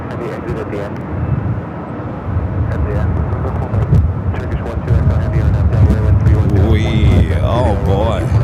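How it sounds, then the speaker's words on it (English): Lufthansa airliner, flight 456 from Frankfurt, approaching LAX in strong winds, a steady loud jet roar that builds toward the end, with wind buffeting the microphone and someone talking over it. "up next at Lufthansa Queen, coming up from Frankfurt, flight 456. Going to be battling these winds."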